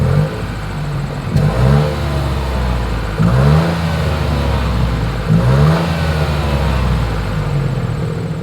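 A 2023 Nissan Rogue SUV revs its engine at the exhaust, with three rising revs at steady intervals over a constant idle rumble, close and fairly loud with no talking.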